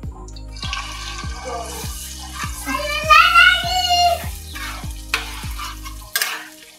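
Dried fish for a mashed relish hits mustard oil in a pan, making a close sizzle under rhythmic scraping and stirring strokes, with voices talking in the background.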